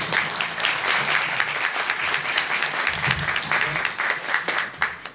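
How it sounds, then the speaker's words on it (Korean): Steady, dense audience applause fills a hall at a youth employment presentation, continuous and fairly loud throughout with no break, a murmur of the crowd underneath. "큰 박수 부탁드립니다"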